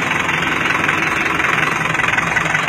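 A homemade Kartar 4x4 tractor, built by the Kartar combine makers, idles with a steady, loud, even engine rumble close by. It runs throughout without pause, and no one speaks.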